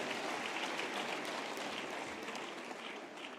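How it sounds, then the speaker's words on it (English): An audience at a graduation ceremony applauds a sign language interpreter, a steady wash of clapping from a large crowd that holds for several seconds and tapers slightly at the end, with no talking over it. "he also deserves a big round of applause"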